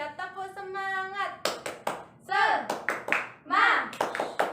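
Teacher in a third-grade microteaching lesson leading the 'tepuk semangat' clapping routine: bursts of sharp rhythmic hand claps alternating with her sung and spoken chant, the claps close and loud.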